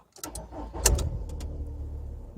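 A car engine cranks briefly and catches, settling into a low, steady idle, close and fairly quiet, with no voices.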